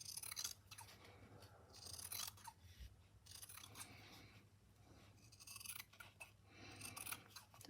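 Scissors snip through fabric in a series of short, close cuts with small pauses between them, done during a stitchery journaling craft session with a long pair of scissors; no one speaks.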